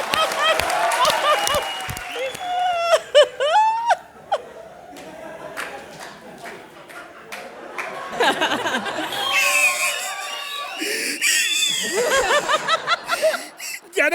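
Studio audience at a stand-up comedy show clapping for a named guest: bursts of applause mixed with laughter and chuckles, alongside a performer talking and the crowd chattering.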